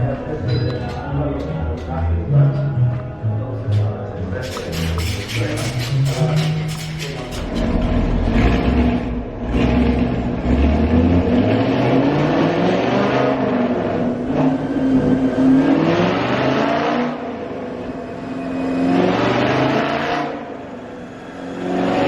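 Car engine on a dyno making a baseline pull after an MSD manifold and Roto Fab intake install, loud revving climbing in pitch over about twenty seconds and falling away at the end, with voices over it in places.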